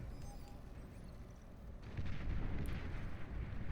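Fat Boy artillery fires in the real-time strategy game Beyond All Reason during a 5v5 battle, with low rumbling booms and blasts under constant battle noise, growing louder in the second half.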